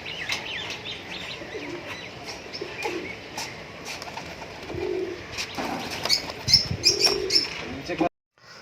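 Fancy pigeons at a home loft give soft coos and chirps, with an occasional faint wing flutter, over steady outdoor background noise and people talking nearby.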